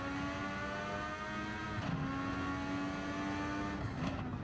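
A McLaren MP4/4 Formula One car in Gran Turismo 7 at Sao Paulo held at full throttle through a chicane, a steady high-pitched engine whine with a brief dip near the middle and end, constant and close.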